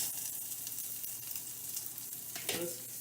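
Broccoli sizzles and crackles steadily in a frying pan close up, with a brief stirring scrape near the end.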